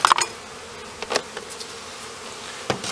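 Honey bees buzz over a frame of capped brood in a hive, a low continuous hum with a few sharper crackles and bumps of handling.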